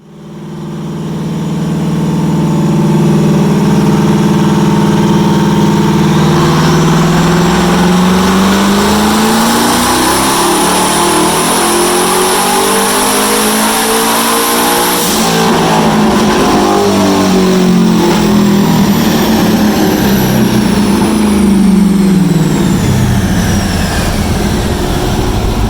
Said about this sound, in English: now she's going to go on the dyno and we're going to see what the hell she does